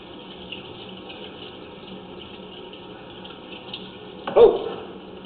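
Water runs steadily into a utility sink off a kitchenette, a continuous even wash of noise with a single sharp knock or clunk near the end.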